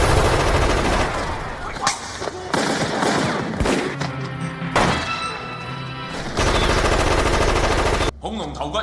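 Bursts of rapid automatic gunfire and sharp shots ring out in a shootout with robbers from the film From Beijing with Love, separated by short gaps and crashes, loud and close.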